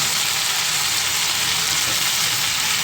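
Bitter gourd pieces frying in a pan with coriander for a kakarakaya pulusu, giving a loud, steady, close sizzle with no pauses.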